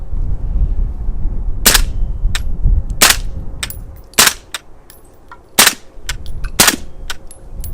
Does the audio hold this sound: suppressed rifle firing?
yes